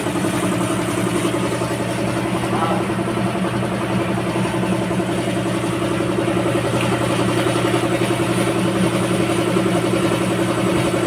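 A CF Moto 450cc adventure motorcycle engine idles steadily throughout, close by with an even, throbbing mid-range drone and light mechanical clatter, at a steady loudness and with no talk.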